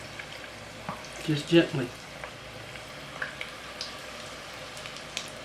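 Eggs deep-frying in oil make a soft, steady sizzle with a few scattered crackles, while a person speaks briefly and quietly over it.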